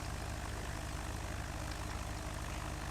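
A light aircraft engine drones steadily and evenly during a runway approach, a constant low hum with no talking.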